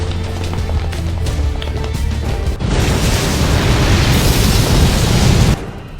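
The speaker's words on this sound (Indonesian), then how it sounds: "Bahkan tidak lama, sebuah ledakan pun terjadi." A sudden explosion in a drama bursts over a low ambient hum, followed by a sustained loud roaring rumble of debris and fire that cuts off abruptly near the end.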